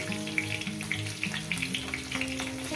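A pan of frying food sizzles softly as a little turmeric goes in, with light scrapes and clicks from stirring over a low background hum, close and fairly quiet.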